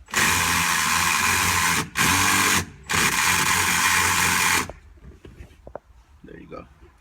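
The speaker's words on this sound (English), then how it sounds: "This is where this comes in handy, our angle driver." An angle driver whirs in three loud, steady bursts as it drives a screw inside a 1961 Impala during an audio upgrade, followed by quieter clicks and handling noises.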